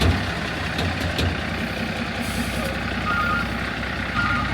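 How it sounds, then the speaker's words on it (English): An International quad-axle dump truck's backup alarm beeps repeatedly over its rumbling idling engine, close by and fairly loud. "That noise is a backup horn."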